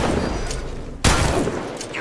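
Gunfire in the mobile battle royale Apex Legends Mobile: a loud, dense rattle of shots with a sharp booming impact midway, close and continuous.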